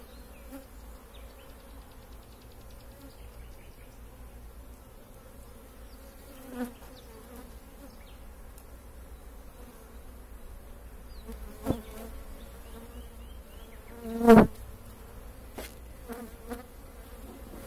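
Honeybees buzz softly and steadily around frames of brood and foundation as a beekeeper inspects the colony, with a few sharper knocks and clicks of frames being handled, the loudest near the end.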